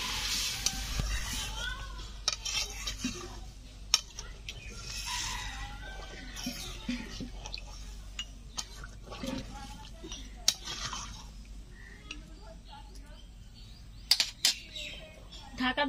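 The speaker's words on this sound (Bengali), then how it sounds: "এখন দিয়ে দিচ্ছি পরিমাণ মতো জল।" Water poured into a pan of chicken and potato curry after about ten minutes of frying, with sizzling and stirring sounds, scattered clinks of utensils against the pot, and faint background noise throughout.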